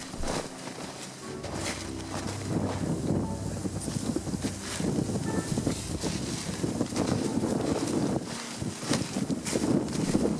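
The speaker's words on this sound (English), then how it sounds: "the weather deteriorates and strong wind comes out" Strong wind gusting across a high mountainside during a wild boar driven hunt, a loud continuous rush with buffeting bursts against the microphone and no talk.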